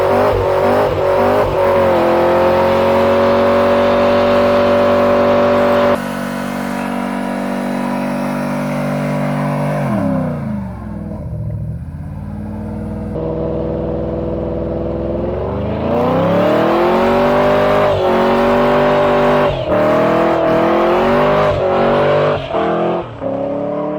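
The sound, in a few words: car engine running and revving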